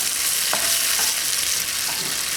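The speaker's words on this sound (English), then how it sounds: "Onions and garlic are sauteed nicely" Onions and garlic sauté in a pan, giving a steady, broadband sizzle with a few faint stirring scrapes and clinks over the top. Nobody speaks.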